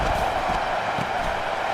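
Football stadium crowd at an Arkansas State vs Old Dominion game, a steady broad roar of cheering with no single voice standing out.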